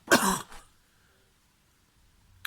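A single close throat-clearing cough, loud and brief, then near silence with a faint click at the end.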